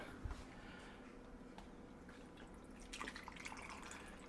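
Milk tea poured over fresh ice in a shaker cup for bubble tea, a soft continuous liquid trickle and splash with faint dripping, close and fairly quiet, with no talking.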